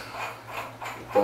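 A wrench tightens a bolt on a Harbor Freight mini milling machine, giving soft rhythmic ratcheting clicks in three quick pulls, close and fairly quiet.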